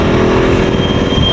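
A motorcycle engine revs loud and close, a steady dense roar holding throughout with no voices over it.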